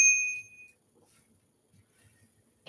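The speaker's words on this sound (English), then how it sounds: "This is all the rage now with trail riding is to put a bell on your bike." A bell mounted on a Polygon Siskiu T8 trail bike gives one clear, bright ding that rings out and decays over about half a second, followed by near silence.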